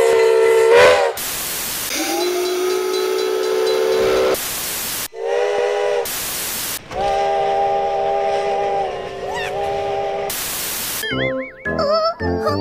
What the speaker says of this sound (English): The driver will give another whistle as the engine is puffing away, as if to say goodbye.